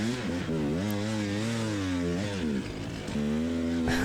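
A hard enduro motorcycle engine lugs down a rocky downhill race course, its loud, close low drone wavering up and down in pitch as the throttle rises and falls, with a sharp burst at the very end.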